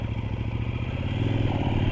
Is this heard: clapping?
no